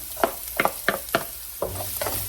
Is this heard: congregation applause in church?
no